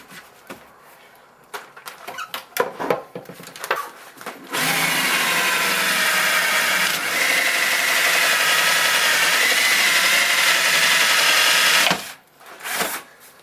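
A power drill whirs continuously for several seconds at high, steady speed, drilling a hole to vent a range hood, preceded and followed by brief handling noises and shuffling.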